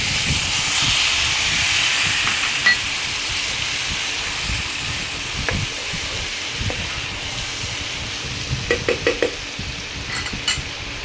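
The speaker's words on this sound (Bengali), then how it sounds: "এবারে মশলাটা এই তেলের মধ্যে দিয়ে দেবো।" Spice paste for a Bengali ajwain rohu fish curry sizzles in hot oil in a pan, a steady loud hiss running throughout with a few sharper crackles and pops near the end.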